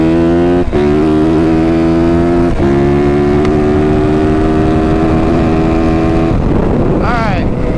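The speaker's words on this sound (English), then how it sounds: "We're gonna hit about 25 mile an hour, and then I'm just gonna gas it in 2nd gear" A 450 dirt bike engine drones loud and close as the rider holds about 25 mph, then guns it hard in second gear, the pitch climbing steadily before a brief drop and a rising rev near the end.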